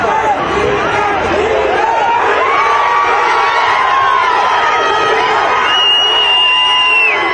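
TVK party volunteers crowd around Vijay's car along the road from Saravanampatti in Coimbatore, a loud continuous roar of cheering, whooping and shouting with overlapping voices and occasional high calls.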